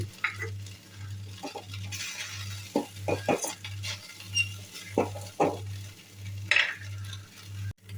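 Green pea poha tossed and stirred in a pan: repeated spoon scrapes and light clinks against the metal over a low sizzle, with a steady pulsing hum running underneath throughout.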